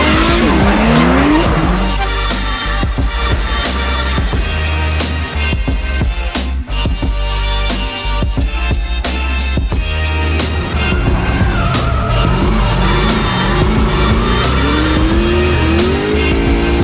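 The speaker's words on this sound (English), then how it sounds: "drifting, having fun" Cars drifting at a British Drift Championship media day at Teesside, with loud engines revving and tyres squealing in long skids, a continuous roar with pitch sweeps rising and falling as the cars pass close by.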